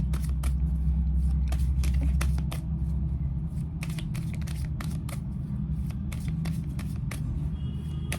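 Tarot cards shuffled by hand, a steady riffle of crisp flicks and snaps close up, continuous over a low background hum with no talking.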